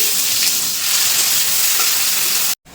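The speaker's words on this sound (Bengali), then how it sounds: "ফোড়ন ভাজা ভাজা হয়ে গেছে এবার দিয়ে দেবো পেঁয়াজ কুচি" Chopped onion hits hot mustard oil while cooking kochur loti, giving a loud, continuous, close-up hissing sizzle that holds steady for a few seconds before cutting off abruptly.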